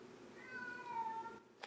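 A house cat meows in a drawn-out, wavering call near the microphone, followed by a short sharp chirp at the end, with a quiet indoor room in the background.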